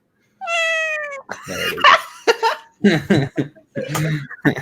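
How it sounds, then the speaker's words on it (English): A very vocal pet cat gives a long, loud meow up close, followed by a run of shorter chirping vocalizations and meows with little pause between them. "the most vocal cat you'll ever see"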